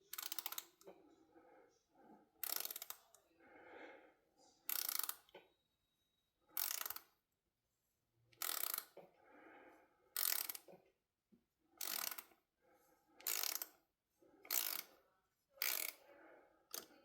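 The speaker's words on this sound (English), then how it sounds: "This little wrench right here, this little ratchet, so handy doing this kind of work." A small ratchet wrench works a screw while a folding knife is taken apart, repeated bursts of rapid clicking separated by short silences, close and crisp, with no voices.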